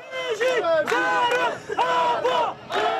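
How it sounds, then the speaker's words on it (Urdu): A crowd chants slogans for the defence of Kirkuk, Iraq, in loud rhythmic bursts of massed voices, about five shouted phrases with brief pauses between them. "کرکک کے دفاع کے لیے نعرے"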